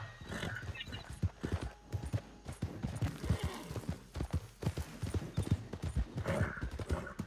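Horse hooves clip-clopping in the Red Dead Redemption video game, a steady run of close, loud hoof beats with brief neighs and scattered voices mixed in.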